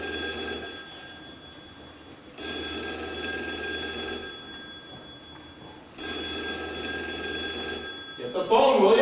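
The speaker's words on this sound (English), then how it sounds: "Get the phone, will ya?" An office telephone rings in three long, loud bursts separated by short pauses, close by, with a brief voice near the end.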